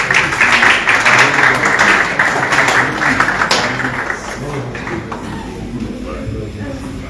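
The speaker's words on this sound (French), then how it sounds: "recevons Ariel sous vos applaudissements" A slam poetry audience applauds to welcome the performer Ariel, steady dense clapping that stays full for about four seconds, then thins and softens as it dies away.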